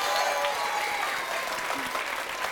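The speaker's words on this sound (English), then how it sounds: "I think they deserve another big round of applause" Applause at a children's book awards ceremony after the Lollies performers, a dense, even roar of clapping from a large audience, sustained and fairly loud, with faint voices mixed underneath.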